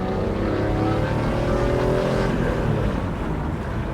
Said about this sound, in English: The engine revs beautifully.